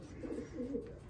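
Racing pigeons coo softly inside a loft, a steady low murmuring of several birds overlapping with no voices present.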